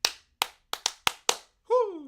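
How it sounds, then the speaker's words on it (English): Six sharp, separate hand claps land close to a microphone at an uneven pace, each decaying quickly into silence, then a short voiced exclamation ends the sequence. "I clapped."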